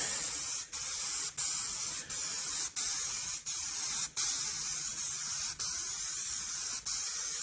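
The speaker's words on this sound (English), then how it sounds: "for a spray can, this is laying it out pretty decent" Steady hissing spray of metal flake paint from an aerosol can onto a car, broken by brief pauses roughly every second as the nozzle is released and pressed again, close up.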